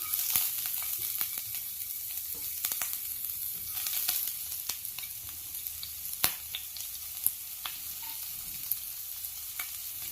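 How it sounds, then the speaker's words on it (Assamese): Chopped onions sizzle in hot oil in a wok, a steady close crackling hiss with occasional sharp pops and light clicks. No one speaks. "মোৰ কেৰাহীৰ তেলখিনি গৰম হৈছে। এতিয়া মই কাটি থোৱা পিঁয়াজখিনি দি দিম।"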